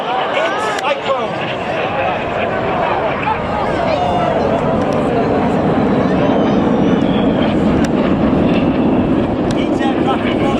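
Display aircraft at the Falmouth Armed Forces Day Airshow in Cornwall roar past close in a cyclone manoeuvre, a loud sustained engine drone rising steadily while a commentator talks over it.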